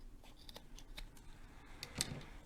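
Scissors snipping through excess zipper on an embroidered project, a few quiet, close cuts at an uneven rhythm.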